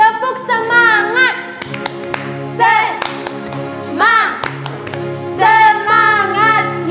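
Sharp claps ring out in an irregular rhythm during a church service while children's voices sing or chant loudly over them.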